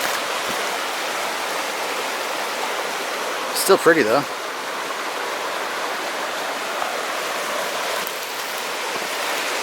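Steady rushing flow of a red-tinted mountain creek in the Sierras near an old gold mine, a continuous broadband wash throughout, with a brief voice speaking briefly over it around the middle.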